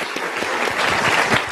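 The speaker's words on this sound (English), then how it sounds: "Patricia, you're supposed to clap for that, folks." An audience at a university institute address claps together in a short burst of applause, dense and steady, with no speech over it.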